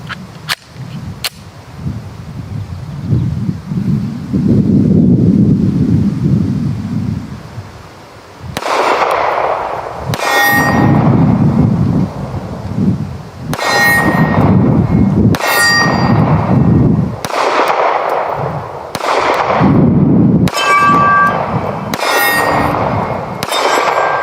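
A rifle fires a magazine of cheap Barnaul 115 grain steel case ammunition, several loud sharp shots spaced a second or two apart, each followed by a ringing metallic clang from a steel target.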